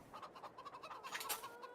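Chickens cluck in a farm setting in Farming Simulator 22, a quick run of short rhythmic clucks from a small flock, close and fairly soft with no talk over them.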